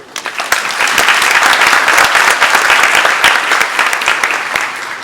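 Loud, close round of applause at the Ministry of Foreign Affairs welcoming a newly appointed minister, with many individual sharp claps standing out in a dense, sustained burst.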